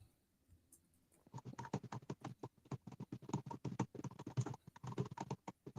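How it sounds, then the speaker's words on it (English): Rapid, forceful keyboard typing starts after a quiet second and continues in dense bursts of clicks, close and fairly loud. "Damn, typing hard, ain't you?"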